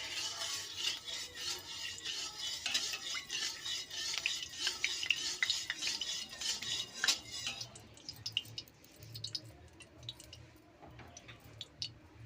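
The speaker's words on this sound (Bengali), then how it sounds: "আমি সাদা তেল দেবো আর তেল দিয়ে প্রথমে মাছগুলো আমি ভেজে নেবো" Pieces of bhola fish fry in white oil in a hot kadai wok, a steady crackling sizzle with soft stirring scrapes that thins out after several seconds into scattered pops.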